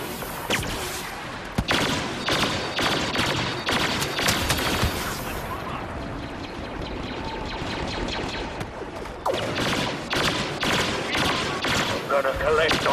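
Rapid blaster fire from Star Wars Battlefront crackles in dense volleys, loud and close, thinning out in the middle before a fresh burst of shots, with voices talking over the battle.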